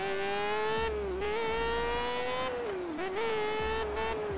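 A motorcycle runs flat out at top speed, its engine holding a steady, high, strained whine with small dips at gear shifts and wind rushing underneath, loud and continuous.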